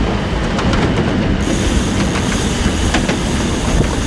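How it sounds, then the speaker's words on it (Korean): A train rumbles past at close range near Yangsu Station, its steady loud roar carrying faint wheel clatter and squeal throughout, with no voices. "기차 지나가는 소리 같네요"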